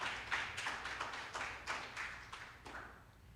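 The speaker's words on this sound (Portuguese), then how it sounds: "Aplauda, bem forte." Church congregation applauding during an Easter service, a faint, distant wash of scattered hand claps repeating in uneven bursts with no voices over it.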